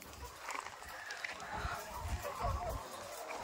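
Free range heritage chickens cluck softly in a steady, diffuse background of faint farmyard noise, with no voice clearly heard.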